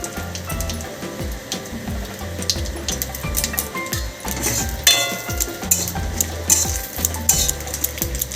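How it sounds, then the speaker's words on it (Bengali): Whole cloves, cinnamon and cardamom pods crackle in hot oil as a tempering for a pointed gourd curry, giving dense, irregular pops and spits with clattering pan sounds throughout. "আর নিচ্ছি তিনটে লবঙ্গ দারচিনি আর দুটো এলাচ তেলের মধ্যে ফাটিয়ে দিয়ে দেব"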